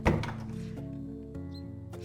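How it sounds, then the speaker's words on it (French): A door shuts in the video game House Flipper, landing as a single loud thunk at the start, then ringing out into a low tonal hum with game background music. "Allez, on ferme la porte."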